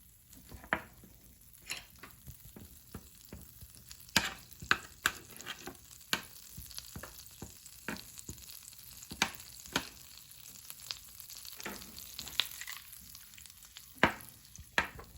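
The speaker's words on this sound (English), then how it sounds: "So here I'll be adding in my butter" Cold butter sizzles in a hot pan while turkey wings cook, a steady soft crackle broken by frequent sharp pops and the clatter of stirring, with no talking.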